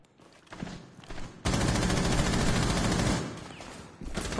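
Loud, sustained automatic gunfire in Rainbow Six, a dense rattling burst that lasts a couple of seconds, with more shots resuming at the end.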